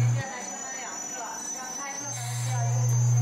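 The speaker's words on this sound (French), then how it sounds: "Pour y aller, je prends le métro." A Beijing metro train hums and whines from aboard, a low motor tone dropping out then returning louder, with a high steady whine over rail noise.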